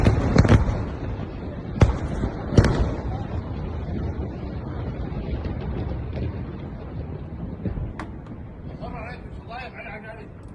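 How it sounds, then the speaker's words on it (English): Israeli airstrikes on a hillside in southern Lebanon, heavy explosions booming at a distance: sharp blasts near the start and around two to three seconds in, then a long rolling rumble that slowly fades. "See on the hillside just massive explosions, even a shockwave there."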